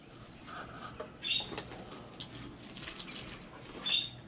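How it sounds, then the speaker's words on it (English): Water poured from a hose or can onto tomato plants and flowers in a small apartment garden, a soft steady splashing trickle with brief brighter spurts, faint birds chirping in the background. "Now I'm going to water the flowers for her"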